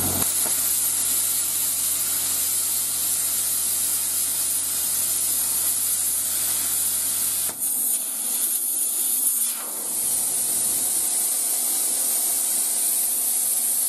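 Compressed air hisses steadily from a Parkside PPSK40A1 plasma cutter gun fed by an external air supply, a loud continuous rushing spray that shifts briefly in tone near the middle and carries on unbroken with no talk.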